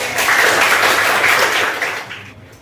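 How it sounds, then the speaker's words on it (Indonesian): A group claps to applaud a tutor during a lesson, a dense burst of applause lasting a couple of seconds before tapering off. "Kasih tepuk tangan dulu buat Pak Tutor hebatnya."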